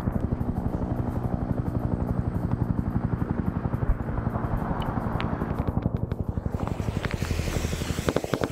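A Chinook helicopter in the SOG Prairie Fire Zeus operation defending Khe Sanh thumps loudly and steadily with rapid rotor chop and a droning engine, staying close and continuous the whole time.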